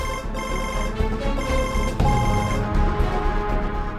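A telephone rings while a call is placed in an Indonesian drama scene, a steady, loud tone that repeats for about four seconds with no talking.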